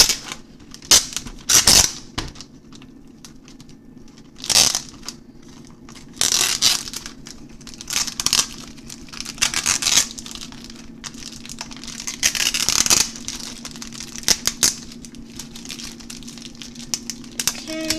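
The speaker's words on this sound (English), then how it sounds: "I'm going to go ahead and take the plastic film off" Plastic film is peeled off a frozen meal package, producing sharp crackling snaps and crinkling tears in irregular bursts over a faint steady hum, close up, with no talking.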